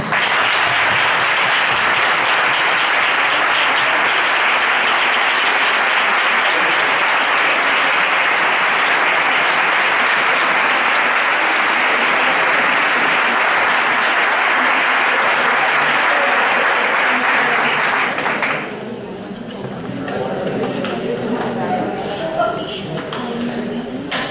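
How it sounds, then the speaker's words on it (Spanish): A large audience gives loud, sustained applause for judge Francisco Serrano at a public talk, a dense wash of clapping lasting nearly twenty seconds before it abruptly drops away into quieter room noise and a voice. "me gustaría dar un fuerte aplauso, primero por venir y segundo por ser lo valiente que está siendo, al juez Francisco Serrano"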